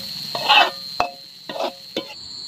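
Goreng becek being fried in a pan while camping by a river, with a few short bursts of sizzling and stirring scrapes spaced out over a steady high whine, close and clear with no talk.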